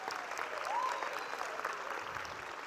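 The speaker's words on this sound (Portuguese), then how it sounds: "Uma salva de palmas para o nosso ganhador de 100 reais aqui." Audience applause for a 100-reais prize winner at a corporate event, a steady wash of clapping throughout, with a brief whistle or cheer rising once early on.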